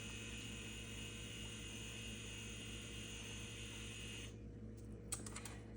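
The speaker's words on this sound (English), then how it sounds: "It is printing out once again." A label printer runs steadily, a continuous close mechanical whir and hum for about four seconds before stopping, followed by a few faint clicks.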